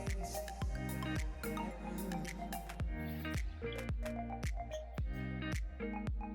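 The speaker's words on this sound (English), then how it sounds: "Now I'm gonna rinse this out, and I'm gonna rinse this hair out until the water is clear" Water runs steadily as bleach is rinsed out of hair, with a continuous splashing spray broken by repeated sharp drips and squishy wet handling of the hair.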